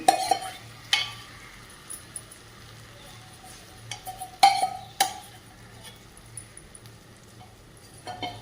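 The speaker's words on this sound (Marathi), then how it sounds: "आणि गॅस मोठा करून मस्तपैकी हलवून घ्यायची" Spoon stirring a batter of pumpkin, potato and whole moong in a hot pan over high flame, with sharp scraping clinks now and then over a low steady sizzle, close and fairly quiet.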